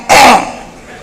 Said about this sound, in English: if I clear my throat the second time